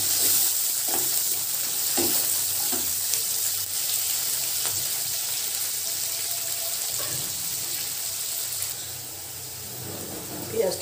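Sliced onion with halved bay leaves frying in oil in a pan for a mutton and potato curry, a steady close sizzle broken by occasional stirring scrapes and clinks.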